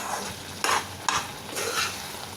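Carrot halwa cooking in sugar syrup is stirred in a pan, giving three distinct scraping strokes over a faint, steady sizzle, close up with no talking.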